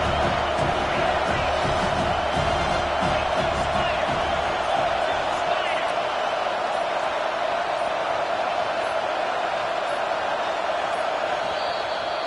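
Steady, dense roar of a large stadium crowd cheering at a Florida State football game, a continuous wash of noise with a commentator's voice underneath.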